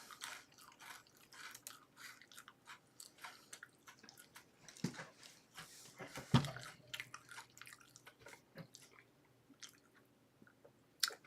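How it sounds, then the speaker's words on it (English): Close-up chewing of food right at the microphone, with wet smacking bites and crunches repeating irregularly throughout, a louder crunchy bite near the middle, and no talking. "enough of hearing me chew in your ear"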